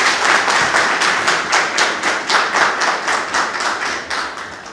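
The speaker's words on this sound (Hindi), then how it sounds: "आइए राजपाल सिंह चौहान जी का तालियों के साथ स्वागत करते हैं" An audience claps in unison to welcome a poet at a Raksha Bandhan gathering with soldiers, a loud, rhythmic, evenly spaced beat of many hands that continues throughout.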